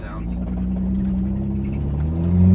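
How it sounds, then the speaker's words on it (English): Rough, uneven engine rumble from a failing Kia Sedona, rising in pitch as it revs harder toward the end, loud and close under speech. "I do not like the way that engine sounds."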